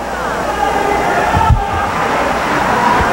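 A large basketball crowd roars continuously inside an arena in Milan, the former Palalido, during a PBA Euro Challenge game, loud and sustained with a brief thump partway through.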